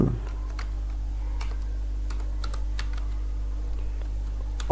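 Code typed on a computer keyboard for web design, light irregular key clicks in quick bursts over a steady low electrical hum, close and fairly faint.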